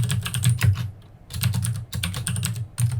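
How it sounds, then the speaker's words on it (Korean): Fingers type an admin account name and password on a computer keyboard in quick, close clattering runs of keystrokes with one short pause partway through; no one speaks. "관리자의 계정과 암호를 한번 입력해 보도록 하겠습니다."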